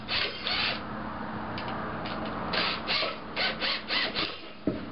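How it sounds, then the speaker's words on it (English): Screws being tightened into an aluminium plate on a homemade stomp box, giving a run of short, close scraping and clicking turns with small pauses between them and one sharp knock near the end. "I'm going to tighten these screws up."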